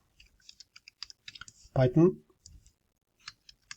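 Keystrokes on a computer keyboard click in short bursts at a near distance, separated by a spoken word in the middle.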